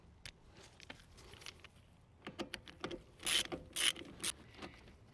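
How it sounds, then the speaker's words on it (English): A socket wrench takes screws out of an old Victa lawn mower, giving bursts of quick ratcheting clicks that start faint and sparse and grow louder and denser near the end, with no talk. "so now I'm just going to take these screws out"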